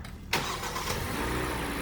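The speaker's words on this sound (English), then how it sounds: "so we'll start the car" A car engine that had a dead battery fires up after a jump start, with an abrupt loud catch followed by a steady running rumble close by.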